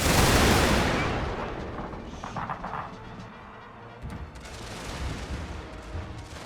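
Distant artillery fire in a fantasy war video game, a heavy booming blast at the start fading into a low rumble, followed by softer scattered reports and crackle in the background.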